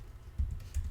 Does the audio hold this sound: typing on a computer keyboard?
yes